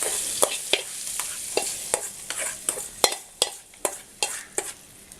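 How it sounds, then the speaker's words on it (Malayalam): A spoon scrapes repeatedly through thick jackfruit payasam (chakka pradhaman) in a pan, giving about a dozen sharp, evenly spaced knocks and scrapes over a soft simmering hiss, up close with no talking. "ഇതൊന്ന് ഇളക്കി കൊടുക്കുക."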